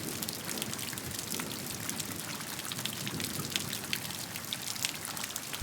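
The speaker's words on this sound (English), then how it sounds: "A soft drizzle falls from the sky, cool and refreshing." Soft drizzling rain patters steadily and evenly, a dense continuous hiss of fine drops with no voices.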